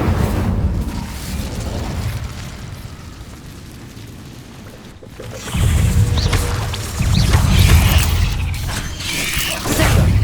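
Incendio fire spell from Hogwarts Legacy, a low rumbling roar of game effects that quietens midway, then surges back loud and crackling in bursts over the last half.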